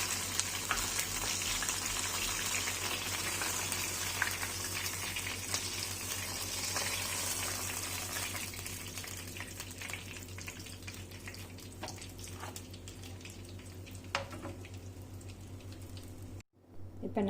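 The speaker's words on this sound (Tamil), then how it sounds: "இப்போ நம்மளோட சிக்கன் நல்லா டீப் ஃப்ரை ஆகிடுச்சு." Chicken leg pieces deep fry in hot oil with a steady, dense sizzle and crackle close by, easing slightly toward the end before a brief break.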